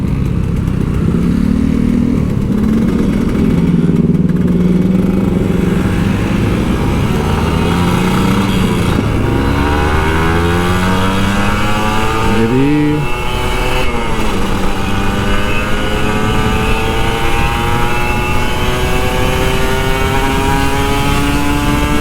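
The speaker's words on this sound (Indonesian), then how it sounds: "Ini digas mulu nih motor." An older Kawasaki Ninja RR 150 two-stroke motorcycle revs hard and continuously on a Jakarta road, its loud close engine note rising and falling through sweeping pitch changes with no talking.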